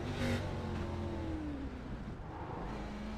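A stock car engine in an ARCA Series racing video game sweeps past, a loud whining roar that pitches down as the car goes by, alone without talk.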